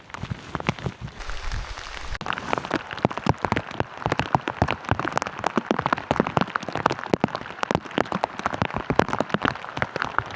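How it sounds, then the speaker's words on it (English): Steady rain patters and drums on the surroundings along a coastal footpath during a thunderstorm, a dense, continuous crackle of drops heard close by with no talking. "at least I'm walking in the rain and it's getting me wet and cooling me down a bit"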